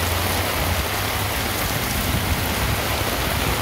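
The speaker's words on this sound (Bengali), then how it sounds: "মুষলধারায় বৃষ্টি হচ্ছে" Heavy downpour pounds outside a house in Mawna, Gazipur, a loud, dense and unbroken wash of rain close by.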